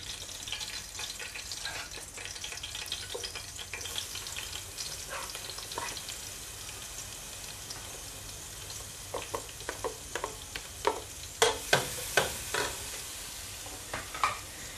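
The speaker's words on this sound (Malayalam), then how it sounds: "ഇനി ഇതിൻ്റെ ഒരു പച്ചമണം മാറുന്ന വരെ ഒരു 2-3 മിനിറ്റ് ഒന്ന് വഴറ്റിയാൽ മതി" Crushed ginger, garlic and green chillies sauté in a pan for chicken curry, a low continuous sizzle with stirring that turns into a run of sharp spoon clatters toward the end, with no speech.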